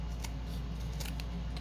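Scissors trim a sliver off the edge of a glue book page, a short dry cut heard close and alone over steady room hum.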